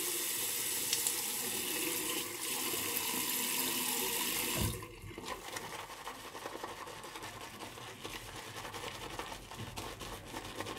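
Water runs steadily from a tap while lathering shaving soap with an Omega 48 brush, a strong hiss that drops abruptly about halfway, leaving softer trickling and wet splashing sounds.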